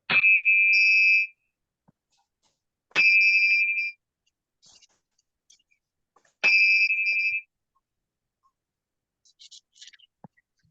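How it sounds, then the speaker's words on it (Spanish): A bell rings three times at the end of a study group session, each a clear sustained tone lasting about a second, separated by pauses of quiet with a few faint clicks. "Entonces la campana, Emilce."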